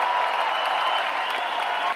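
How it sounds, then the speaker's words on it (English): A large rally crowd applauds a Canadian Navy World War II veteran of D-Day, a dense, even roar of clapping filling the space, sustained and loud with no pauses. "round of applause, bless you, my friend."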